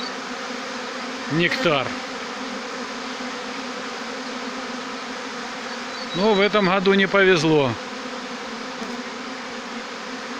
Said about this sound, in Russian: Облет молодой пчелы.